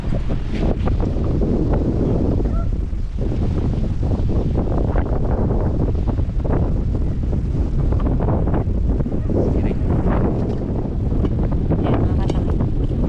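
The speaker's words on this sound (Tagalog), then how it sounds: "Matindi kasi yung amihan dito." Strong amihan, the northeast monsoon wind, blows hard and continuously at a seaside camp, buffeting the microphone with loud, gusty rumbling throughout, with no speech heard.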